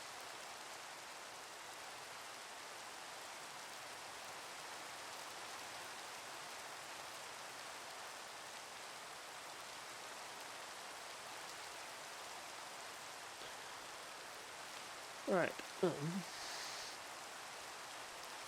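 Steady rain falls in the Minecraft video game, an even soft hiss that continues throughout, with a brief spoken word near the end.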